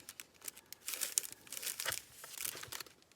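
Upcycled paper envelopes, sewn together into a hinged journal sample, are handled up close with soft crinkles and papery rustles in short irregular bursts, quiet and without speech.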